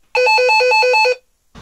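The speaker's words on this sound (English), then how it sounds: "You've got a really irritating entry phone system going off." An entry phone system rings loudly and close, a rapid chain of about six electronic tone pulses in quick succession, then a brief silence before a faint rustle.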